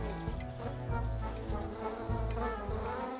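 Bees buzz in a steady, dense drone that stays loud and continuous throughout, with a layered hum and no voices over it.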